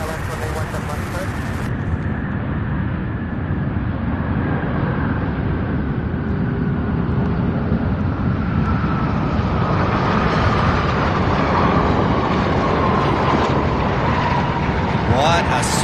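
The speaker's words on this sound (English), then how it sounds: "What a smooth butter landing" A jet airliner landing at Louisville International Airport, a loud, sustained roar of rollout and engine thrust with a slowly falling whine that holds steady throughout.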